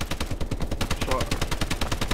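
Rapid, sustained turret gunfire in the video game Call of Duty: Advanced Warfare, a dense, evenly spaced machine-gun rhythm that is loud and close and runs throughout with no pauses.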